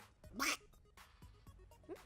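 A duck gives several short nasal quacks spread across a couple of seconds. The quacks are clear but fairly quiet, over a soft background.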